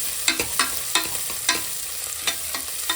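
Onions sizzling in a pan with ginger and garlic, a steady close hiss broken by quick spatula scrapes and taps at irregular intervals, with no voices.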